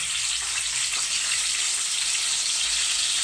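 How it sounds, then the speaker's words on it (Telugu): Small dried fish fry in hot oil in a pan, giving a steady, close, continuous sizzle and crackle with no break. "ఆయిల్ అయితే కాగింది మెత్తళ్ళు వేసుకుంటున్నాను"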